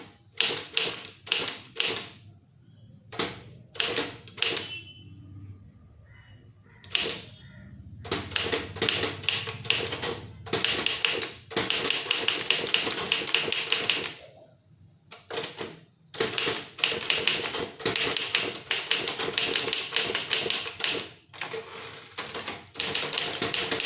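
A manual typewriter hammers out an official Tamil letter in fast irregular bursts of sharp key strikes, broken by brief pauses and the occasional carriage return, close and clear with no talking.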